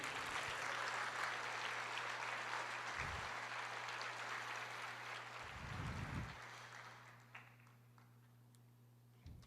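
Church congregation applauding during a sermon, a broad wash of clapping that holds steady and then thins out toward the end, with a low hum running underneath.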